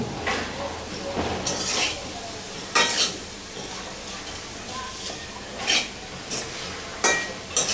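A spoon scrapes and clatters against a pot of hilsa fish curry with potatoes, in irregular bursts of metallic scraping over a quiet simmer, close by.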